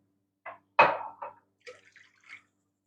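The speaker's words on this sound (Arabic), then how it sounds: "حننزل كاستين الحليب" Milk splashing and trickling in short spurts into a mixing bowl, close and quiet, with a few soft drips following.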